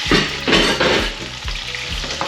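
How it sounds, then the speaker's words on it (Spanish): Onion and garlic frying in a hot pan for almond-sauce meatballs, a steady close sizzle broken by a few stirring scrapes and louder bursts, with no voices. "nos queda freír la cebolla y el ajo"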